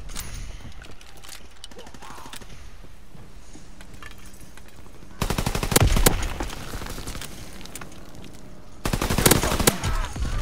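Two loud bursts of rapid gunfire from the player's gun in Call of Duty: WWII, the first around the middle and the second near the end, with quieter mechanical game sounds in between.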